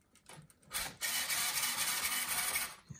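A Hilantronics Hercules HLT70180D 70 kg digital servo on a Losi 5ive T 1/5 scale RC car runs on a partly charged 2S LiPo. A few faint ticks lead into a close, buzzing mechanical whirr lasting about two seconds.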